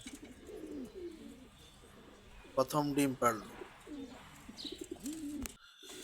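Red checker racing homer pigeons coo in soft, repeated low throaty bursts close by, with a person speaking briefly over them partway through.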